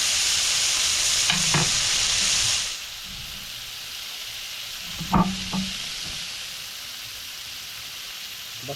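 Mushrooms and pako fern being sautéed in a pan, a loud steady sizzle and hiss that drops to a softer fry partway through, with a few stirring clacks of a utensil.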